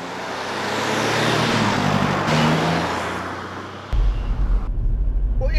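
A diesel family car is driven along, its engine droning steadily with a rising rev, then a sudden heavier low rumble of road and cabin noise takes over near the end.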